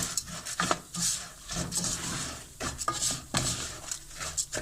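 A spoon scrapes and clinks around a pot as a spoonful of flour toasts for şehriyeli lebeni soup, in repeated close, uneven strokes with no talking.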